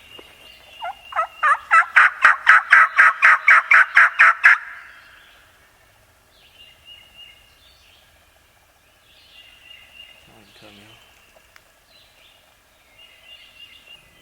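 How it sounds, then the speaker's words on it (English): A wild turkey gobbler gobbles loudly in a rapid rattling burst on public land in spring, then quieter, more distant calls follow from other birds against a calm background. "It's definitely a gobbler."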